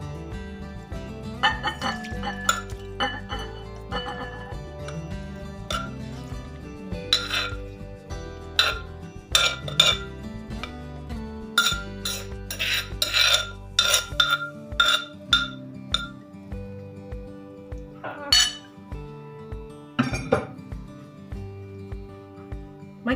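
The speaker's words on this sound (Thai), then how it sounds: "ควักใส่จานเลยค่ะ" Food for a Thai pounded beef tripe salad is scooped from a mortar onto a plate, with a long run of metal spoon clinks, scrapes and clattering knocks, some loud and sharp, others softer, repeating irregularly throughout.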